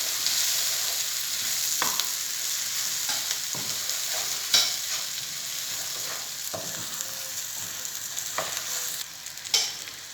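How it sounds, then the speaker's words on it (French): Rice is stirred and toasted in a pan with softened peppers and onion for a fish paella, a continuous bright sizzle with intermittent spatula scrapes and taps, no talking. "Nous allons mettre le riz, bien mélanger,"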